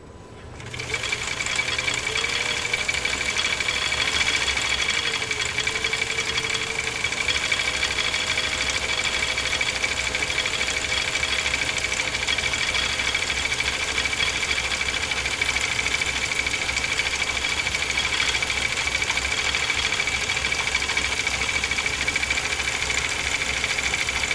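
A Husqvarna Viking Type 21 sewing machine stitching through leather runs in a steady, loud, continuous whir with a fast mechanical rhythm that holds unbroken for the whole stretch.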